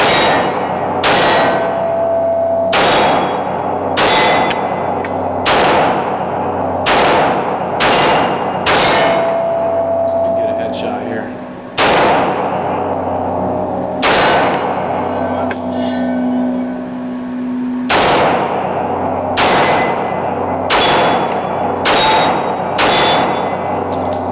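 Repeated single gunshots from a German SIG Sauer P226 CPO 9mm semi-automatic pistol, sharp loud reports with short ringing tails, fired at an irregular pace over a steady background.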